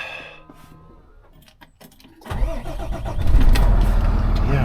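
A truck in its cab cranks over with whirring starter noise, then the engine catches and roars into a loud, rumbling idle that grows steadily close.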